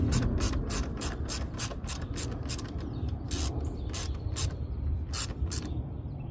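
Ratchet wrench tightening carburetor bolts on a curb-found Toro lawn mower, a rapid series of sharp close clicks in bursts with short pauses between strokes.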